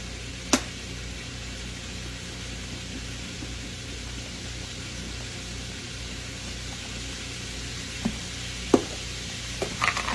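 Steak fingers fry in a pan of oil, giving a steady hiss of sizzling that holds through the whole clip, with a few sharp clicks and taps of utensils near the start and end and no talking.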